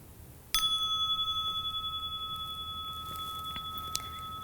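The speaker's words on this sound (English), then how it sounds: "And I'll invite the bell." A meditation bell is struck once and rings out alone with a clear, sustained metallic tone that slowly fades over several seconds in a quiet room.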